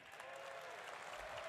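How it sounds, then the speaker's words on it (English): Crowd at a BlizzCon announcement cheering and applauding, a steady wash of clapping and cheers with no speech over it. "It's kind of weird that people are cheering for that"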